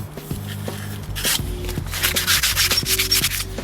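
Sandpaper of 120 grit rubbed by hand over car paint, backed by a Scotch-Brite pad, giving steady close scratchy strokes in a continuous rhythm with a few soft knocks.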